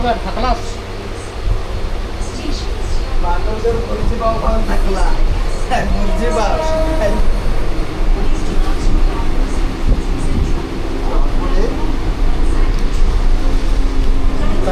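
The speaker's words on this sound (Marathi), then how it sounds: "ट्रेन फायनली चालू झालेली आहे" Steady rumble and clatter of a moving train in Mumbai at night, with squeaks and rattles, while people talk nearby over the noise.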